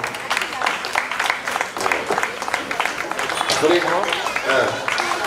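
Steady clapping from an audience at a residents' association annual meeting during a prize giving, a continuous patter of many hands with voices talking over it.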